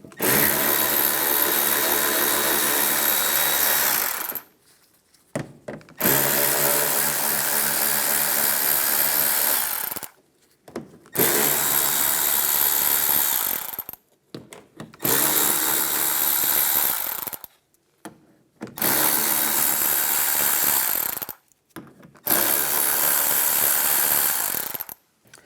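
A power tool with a 7mm socket removes the side screws from the front bumper of a 2015-2019 Lincoln MKC. Six loud, sustained whirring bursts are separated by short silent pauses, close up and with no talk.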